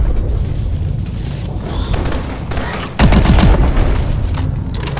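Turret gunfire in the video game Call of Duty: Advanced Warfare: loud, rapid automatic bursts over a rumbling battle background, getting heavier and denser about midway through.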